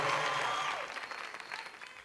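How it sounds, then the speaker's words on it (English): Brief applause from a virtual audience at a live concert in Minecraft, a short burst of clapping that fades quickly, with tonal game or music sounds over it. "Big round of applause for this man."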